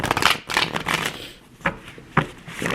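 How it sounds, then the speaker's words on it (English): Tarot cards being shuffled by hand, heard as several quick papery riffling bursts with short pauses between them, close and fairly loud. "This is a weird shuffle."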